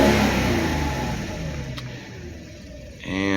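A 1993 Mercedes 500E V8 from a barn find, burning old fuel, idles with a steady low rumble and then revs up sharply near the end.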